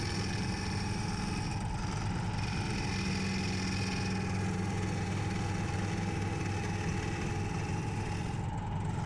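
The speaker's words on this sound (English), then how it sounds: "Now we're just facing off what is now the bottom of the foot with the carbide tool." Wood lathe spinning a bog oak bowl while a carbide tool faces off the bottom of the foot, giving a continuous low droning hum with a steady scraping texture and no voices.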